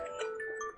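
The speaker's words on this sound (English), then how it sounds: "that was my alarm for a pill that I no longer take." A phone alarm set as a pill reminder sounds a brief, bright electronic melody of a few rising and falling tones, clear and alone without talk.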